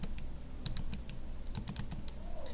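Fingers tapping out numbers on calculator keys during a surface-area calculation, a quick run of light, sharp clicks in irregular bursts, close and alone over low room hum.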